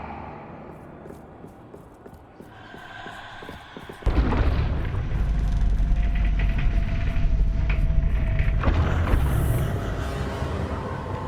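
Confringo fire spell explosions in the video game Hogwarts Legacy: a sudden loud blast hits partway through, then a dense roaring rumble holds steady to the end, after quieter, muffled crackling.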